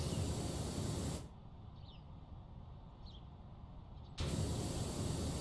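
A pressure washer in PowerWash Simulator sprays a steady, loud broadband hiss that cuts out for about three seconds and then resumes, with a few faint chirps in the quiet gap.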